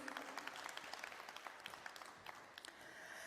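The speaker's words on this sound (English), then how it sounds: "A round of applause, please." An audience at the Intra-African Trade Fair 2021 applauds after a speaker introduction, a steady patter of clapping from many hands at moderate distance, faint and fairly even, fading toward the end.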